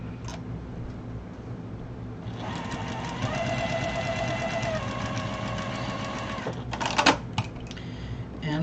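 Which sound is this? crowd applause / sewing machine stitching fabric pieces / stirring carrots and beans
sewing machine stitching fabric pieces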